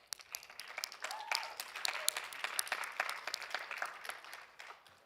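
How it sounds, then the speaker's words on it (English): An audience at an evening pitch event for the IRENA NewGen Rising Stars Award claps for a speaker, a steady moderate round of applause lasting throughout with sharp individual claps standing out. "can we get a round of applause for Mar?"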